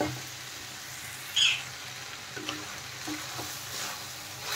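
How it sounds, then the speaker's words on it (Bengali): Sweet corn kernels fry in a pan with a steady, soft sizzle throughout, plus a brief clink of stirring near the start. "দেখেন ভুট্টাগুলো কিন্তু ভালোভাবে ভাজা হয়ে গেছে।"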